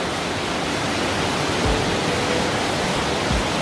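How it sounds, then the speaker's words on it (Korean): A waterfall inside Hwanseon Cave roars as a dense, unbroken rush of falling water, loud and steady throughout with no voices. "여기는 완전 폭포수 보이잖아요."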